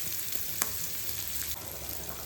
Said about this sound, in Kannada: ಇವಾಗ ಬೆಳ್ಳುಳ್ಳಿ ಹಾಕೊತಾ ಇದ್ದೀನಿ.